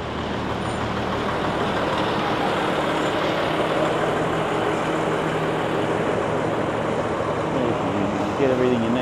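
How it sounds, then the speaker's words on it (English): A big tourist bus rolls past on a busy Pattaya street, its loud, steady diesel rumble and road noise filling the space up close with a brief hiss near the end, while someone talks over it. "Big tourist bus."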